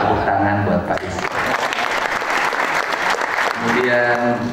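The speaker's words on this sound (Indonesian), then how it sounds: "Tepuk tangan buat Pak Is" Audience clapping at a political gathering, a dense, sustained burst of applause from a crowd, with voices and music-like tones faintly beneath it at the start and end.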